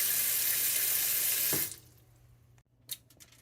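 Tap water runs steadily into a sink as salted chayote and other vegetables are rinsed, then the flow cuts off abruptly, followed by a quiet pause and a couple of small knocks and clatters.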